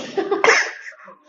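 One abrupt hiccup from a person after drinking spicy dry ginger coffee, a sharp, sudden vocal catch following a short breathy sound, close and fairly loud.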